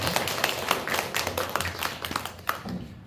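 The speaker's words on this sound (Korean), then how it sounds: "박수 다시 한번 드리도록 하겠습니다." A church congregation claps together in encouragement during a worship service, a dense patter of many hands close by, steady for a few seconds.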